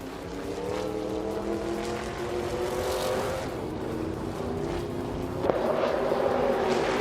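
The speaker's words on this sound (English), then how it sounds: "Yaki Ramen is in 6th place, driving a classic Chevrolet Bel Air." A classic 1957 Chevrolet Bel Air racing in a video game, its engine droning steadily with rising and falling pitch as it shifts, plus a sharp brief click near the end.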